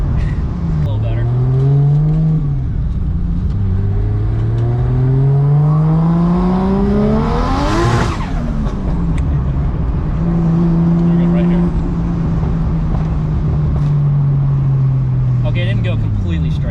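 A Toyota JZX100 drives on wet roads in Tampa, its engine rising through gears in loud repeated revs, with one sharp whooshing swell midway, while people talk inside the car.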